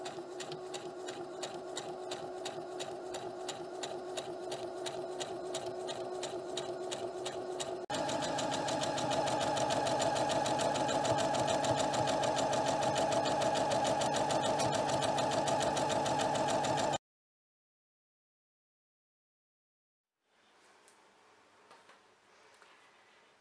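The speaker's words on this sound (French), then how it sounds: "il faudra bien faire un point zigzag tout le tour également" Sewing machine running a zigzag stitch around the edge of fraying fabric for a small pouch: a steady, close mechanical whir that speeds up partway through, then stops, followed by silence and a fainter stretch of stitching.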